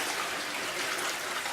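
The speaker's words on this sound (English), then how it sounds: "I just take this whole solution and I pour it in here" Clay slurry pours in a steady, close rushing stream through a 60-mesh screen, a continuous watery splash with no voices.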